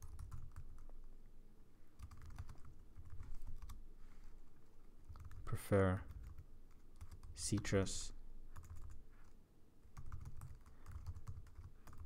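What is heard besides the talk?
typing on a computer keyboard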